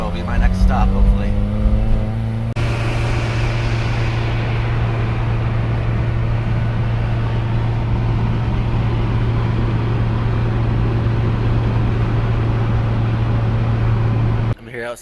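A VW Squareback on a long highway drive, with a steady loud engine drone and road rumble from inside the car, continuous and unbroken for most of the stretch.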